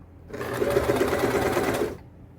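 A sewing machine stitching a diagonal seam on elastic-waist shorts, one continuous rapid mechanical whir of about a second and a half, close and steady, starting and stopping abruptly.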